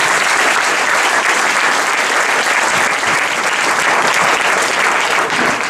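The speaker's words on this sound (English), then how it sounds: "let's give a big round of applause." Steady, dense applause from a tech-conference audience thanking a panel, many hands clapping evenly and loudly for the whole stretch with no pause.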